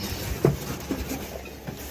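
Inside a moving passenger train on a warm day, a continuous low rumble of the carriage with faint rhythmic rail clatter and a few soft knocks, heard at moderate level.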